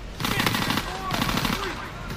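Rapid automatic gunfire from the Call of Duty World War 2 church escape level, dense overlapping bursts sustained throughout, loud and close with a faint voice underneath.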